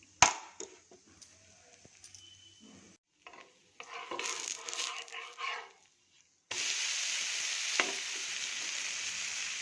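Ragi (finger millet) dosa roasting in ghee or oil on a pan with the lid removed: scattered clinks and light crackle give way to a loud, steady, close sizzle for the final few seconds, with no talking.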